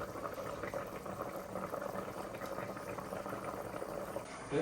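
Fish curry gravy bubbles away in an open pot, a steady, dense boiling burble that continues at an even level from start to finish, close and moderately loud.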